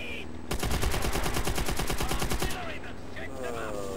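Rapid machine-gun fire from a tank turret in World at War on PS3, a loud two-second burst of evenly spaced shots that cuts off abruptly, followed by lingering battlefield rumble.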